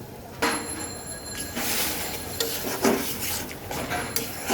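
Cabbage with spices being stirred in a pan, with intermittent clatters and scrapes of a utensil against the metal over a low background hiss.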